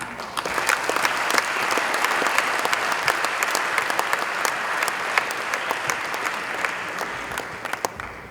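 Sustained applause from a large crowd at a military college centenary celebration, crisp individual claps scattered through a steady wash that holds evenly for the full eight seconds.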